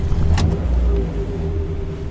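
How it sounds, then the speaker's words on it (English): A car drives along with a low, steady engine rumble heard from inside the cabin, with a brief higher whir near the start. "So I hopped in the car"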